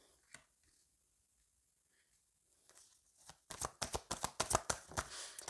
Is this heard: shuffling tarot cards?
yes